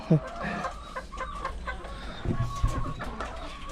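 Small young chickens cluck and murmur nearby in a new coop in a busy, scattered chorus, with some low background noise.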